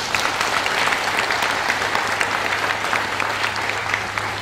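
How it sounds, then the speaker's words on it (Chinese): A crowd at a business leadership training seminar gives a steady round of applause, dense even clapping that holds at full volume throughout with a low hum underneath. "在这边我想请你们给他们一个掌声"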